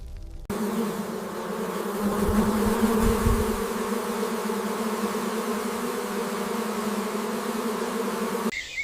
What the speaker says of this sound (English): The hive erupts like a volcano of black and gold fury.